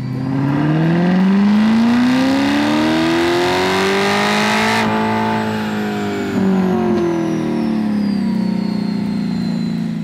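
A loud Lingenfelter Magnuson supercharged C8 Corvette engine, about 604 horsepower, revs up and holds high on a dyno, its pitch climbing, peaking, then easing down with a steady mechanical whine.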